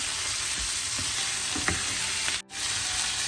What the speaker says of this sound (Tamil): வெட்டி வச்சிருக்கிற தக்காளியை சேர்க்கிறேன் ஒரு ரெண்டு நிமிஷம் வதங்கினா காணும்